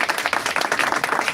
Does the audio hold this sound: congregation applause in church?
yes